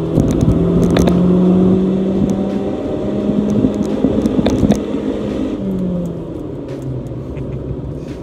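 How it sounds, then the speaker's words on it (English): A 2016 Honda Civic engine pulls hard from about 50, its rising drone climbing steadily with a brief shift dip around five seconds before building again, loud and close inside the cabin with no talking. "do one more acceleration from 50 because I love the sound of this engine"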